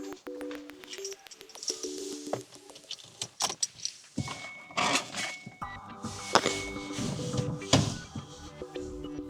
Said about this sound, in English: Let me turn on ignition.